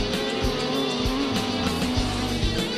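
A sprint car at a Speedweek race slides sideways, a loud, continuous engine roar with rising and falling revs, steady and close, with no talk heard.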